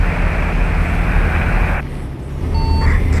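In American Truck Simulator, a truck drones along at highway speed, then the engine noise drops away and a thin electronic speed-warning beep tone sounds near the end, set to trigger around 80 miles an hour.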